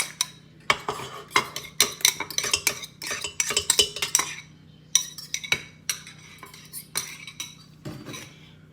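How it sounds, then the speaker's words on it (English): Eggs being beaten into banana nut bread batter, a utensil clacking rapidly and unevenly against a bowl in close, loud bursts with short pauses, no talk. "you're gonna put in your 2 beaten eggs, and you're gonna beat for 3 minutes"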